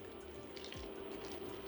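Water trickling into a thick butter chicken sauce in a pan: a faint, steady pour with soft liquid splashing, close by and with no talking.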